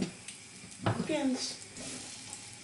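Pork loin frying in hot fat gives a soft sizzle with a brief clatter of a pan or utensil, while a person speaks Polish over it.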